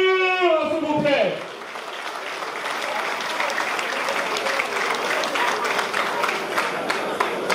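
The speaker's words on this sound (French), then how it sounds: "Est-ce qu'on peut applaudir, s'il vous plaît?" A large audience at a memorial tribute to King Kester Emeneya breaks into loud, sustained applause right after a brief voice, the dense clapping continuing evenly to the end.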